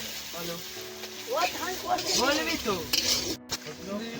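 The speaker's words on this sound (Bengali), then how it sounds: "পেঁয়াজটা ভাজা হয়ে গেছে এবার রসুনটা ভেজে নিচ্ছি" Garlic frying in a pan over an outdoor cooking fire at a picnic on a pond in heavy rain: a steady close sizzle with stirring and clinking utensils, with brief tonal calls or faint voices over it.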